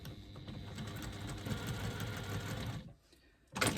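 A sewing machine stitches fabric in quarter-inch spaced rows, a steady rapid mechanical whir running for about three seconds before stopping, followed by a brief louder burst of sound.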